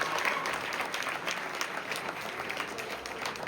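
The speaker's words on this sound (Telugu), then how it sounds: "Give a big applause." Audience clapping at a college musical program held for an old age home, a dense, even burst of applause that carries steadily throughout without any voices over it.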